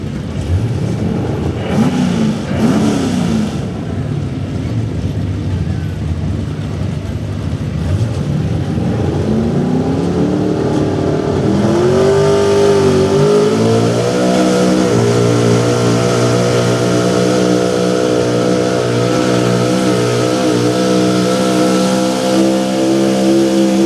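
A small block high output 4x4 pulling truck engine at a truck pull climbs from a rough idle into a loud sustained high-RPM scream that holds steady for many seconds, close and dominant.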